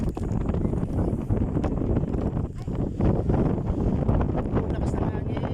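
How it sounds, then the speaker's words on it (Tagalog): Strong, steady wind roars and buffets the microphone throughout on Tinawagan Hills in Baao, Camarines Sur, with a voice speaking over the gusts. "Lakas ng hangin. Lakas ng hangin."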